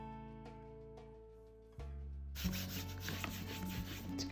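Paper rubbed by hand onto a Gelli plate for a botanical print gives a soft scratchy swishing that starts quietly and turns into steady, close rubbing in the second half.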